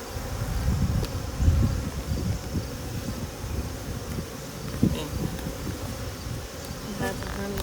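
Honey bees buzzing steadily at an open hive while frames of honey, nectar and pollen are inspected, a dense close hum with occasional louder passes near the microphone, and no talking.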